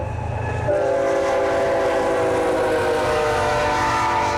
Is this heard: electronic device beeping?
no